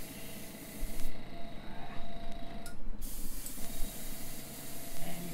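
An airbrush hisses continuously as it sprays paint onto a model river bed on an N scale bridge module, with a brief pause in the spray and a steady airy texture throughout.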